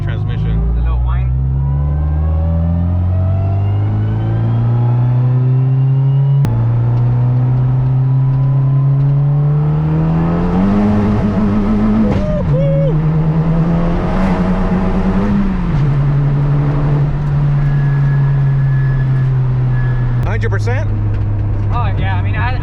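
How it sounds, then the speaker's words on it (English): A high-horsepower 10th-generation Honda Civic Si with a turbocharged L15B engine pulls hard under acceleration, its transmission adding a thin rising whine over the loud engine drone and gear shifts, with voices in the cabin. "that spooling noise, that isn't the turbo, that's actually the transmission. The little whine."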